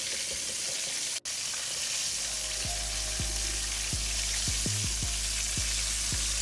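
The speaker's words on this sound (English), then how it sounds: "You just want the grease just to be popping a little bit." Pork chops fry in a pan, a steady loud sizzle broken by sharp grease pops and crackles, close and continuous with no voices.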